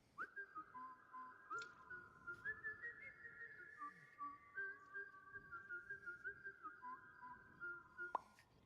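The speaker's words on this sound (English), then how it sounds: "he started whistling when I just left him alone then for a second" An idle ghost character in the PS5 video game Bubble Ghost Remake whistles a sustained, wavering tune over soft ticking and faint background game sounds.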